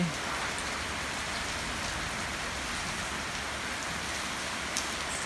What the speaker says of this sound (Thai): สุพรรณษาเล่น เล่นน้ำฝนเลยครับวันนี้